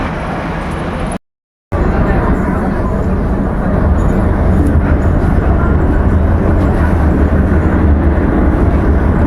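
Steady rumbling roar of a moving metro train, loud and continuous, with a brief dropout near the start and faint talk mixed in.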